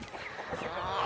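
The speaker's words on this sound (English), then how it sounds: "There's the chickens." Farm chickens heard at a distance on a frosty morning, giving soft, muffled fowl calls over a steady background whoosh, with no voices.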